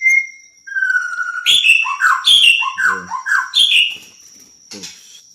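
A bird calls loudly and repeatedly up close, a rapid run of sharp chirps and whistled notes, with no voices in the background.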